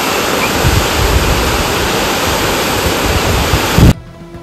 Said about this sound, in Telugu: సో దెన్ వాటర్ ఫాల్స్కి అయితే వచ్చాం. ఇక్కడ ఫుల్ సౌండ్ ఉంది.